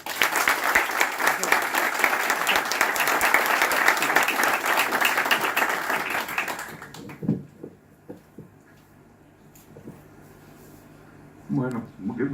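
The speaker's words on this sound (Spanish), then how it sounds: "Lo presentamos con un fuerte aplauso" A lecture audience gives strong applause for about seven seconds, dense and close, before it stops abruptly, leaving a quiet room with scattered thumps and brief movement sounds.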